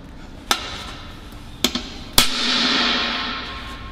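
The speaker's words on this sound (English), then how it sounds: "I grab a hammer to put a better mark on it" Three sharp metallic hammer taps marking thin-wall stainless steel pipe, spaced unevenly, the last one ringing briefly with a bright metallic tone before fading.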